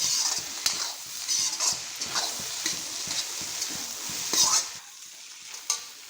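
A spatula stirs homemade egg fried rice with rice and egg in a hot pan, giving a steady sizzle under repeated scraping and clinking strokes, close and fairly loud, with no talking.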